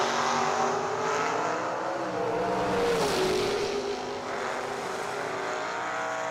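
Drag racing door cars at the lanes during the FTI Performance 350 event, with loud, roaring engine noise that swells and sweeps around the middle before settling into a steady rumble from the track.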